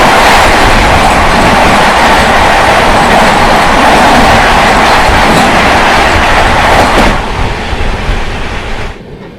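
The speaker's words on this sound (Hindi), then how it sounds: "ये देखिए सामने से आ रही है लखनऊ यशवंतपुर एक्सप्रेस" The Lucknow–Yesvantpur Express rolls in very loud and close, a continuous roar of wheels and carriages that holds steady before suddenly dropping away near the end.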